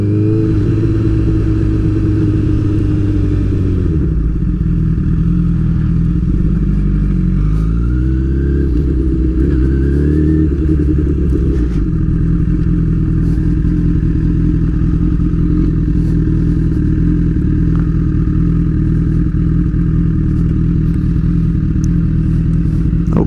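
A Honda CBR1000RR motorcycle engine runs loud and close throughout, revving and shifting, then settling into a steady idle as the bike slows and stops in a parking lot.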